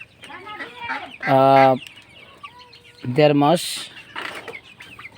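Tiger breed chickens about one and a half months old on a small poultry farm give two loud, close, squawking calls with softer clucks between them, while someone speaks briefly.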